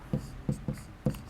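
A pen or pencil writes a single word, producing four soft, close taps and scratches spaced evenly over a second.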